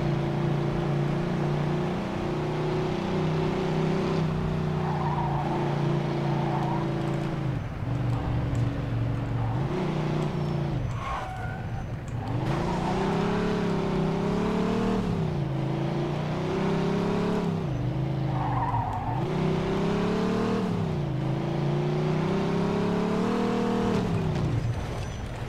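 Loud, continuous car engine racing in Mafia II, revving and shifting with rising and falling pitch as the car speeds along, steady and close throughout.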